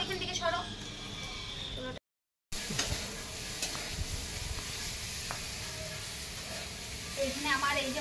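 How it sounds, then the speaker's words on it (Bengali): Cauliflower fries over a wood-fired village stove with a soft continuous sizzle and stirring, under intermittent background sounds, with a brief dropout near the start. "এখানে এই দেখো ফুলকপিটাকেও ভাজা বসিয়ে দিয়েছি"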